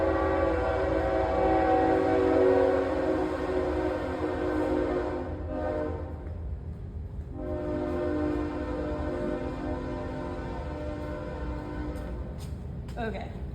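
A train rumbles past with a long, loud sustained horn blast that pauses and then sounds again, a steady rolling roar beneath it.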